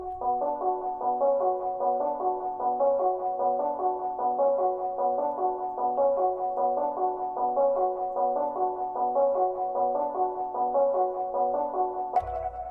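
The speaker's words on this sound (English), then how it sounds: "So for the next sound, I came in Sakura here, and I use this E key 7" A Sakura E Key 7 electric piano plays a repeating melodic phrase for a trap beat, bright sustained notes cycling in a steady loop at moderate loudness with no voices present.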